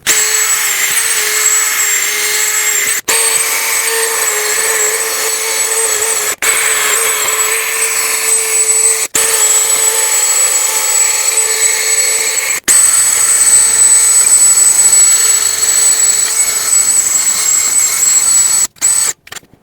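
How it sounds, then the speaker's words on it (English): A power drill spins a wire wheel against the ball joint mounting hole on a Ford F-350 front end, a steady high whine with brief cutoffs as the trigger is released and squeezed again, loud and close. "I have a wire wheel and a drill here that I'm going to use to clean the mounting hole for both ball joints"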